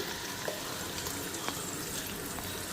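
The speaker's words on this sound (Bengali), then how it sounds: "তার মধ্যে এই যে জল মশলাটা দিয়ে দিই" Spiced water poured into a pan of paneer curry, a faint, steady liquid splash and trickle in a quiet kitchen with a soft sizzle underneath.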